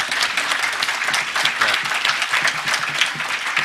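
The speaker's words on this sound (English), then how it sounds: "let's just hear a round of applause for Miloš, and congratulations" An audience at a hacker conference applauds, dense continuous clapping filling the room at a steady, fairly loud level throughout.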